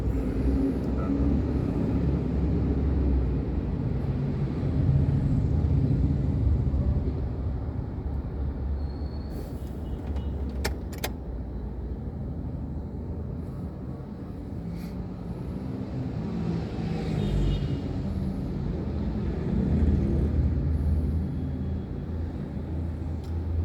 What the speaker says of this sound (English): Chain service of KSRTC going to, that is a Bharat Benz.